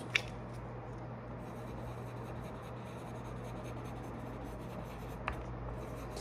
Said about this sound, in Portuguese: Deixa eu escrever aqui, senão eu esqueço.